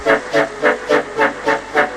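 Steam locomotive whistles from animated engines clearing snow along coastal tracks, sounding as a regular series of six short, hissing whistle blasts, loud and close, with no talk.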